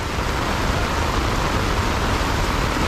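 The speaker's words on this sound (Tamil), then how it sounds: "நல்ல ஒரு மழை பெஞ்சிட்ருக்குங்க" Heavy rain at a railway station entrance, a steady dense roar of falling water with no breaks, constant and enveloping, with no voices.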